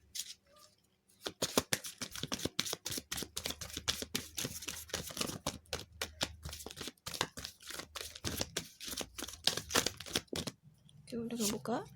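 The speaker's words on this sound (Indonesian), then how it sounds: "Kita tarik 6 kartu lagi." Tarot cards being shuffled and drawn for a reading, a rapid run of crisp riffling snaps and slaps with brief pauses, ending in a short burst of faint talk.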